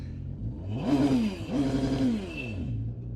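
Outboard boat engine revved in air after being flushed with a hose: the motor rises in pitch, eases off, then surges again, a close and fairly loud whine with some mechanical clatter and no talking.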